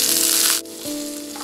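Serpent gourd hits hot oil with chilli, cumin seeds, mustard seeds, chana dal and curry leaves, giving a loud, bright sizzle that abruptly drops to a quieter, steady frying hiss.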